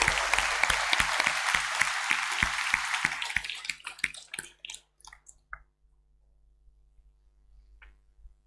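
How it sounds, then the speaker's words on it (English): An audience at an awards night clapping to encourage a singer, dense applause that thins out, leaving a few scattered claps before quiet. "So we'll give Adam a clap there now to give him a bit of encouragement."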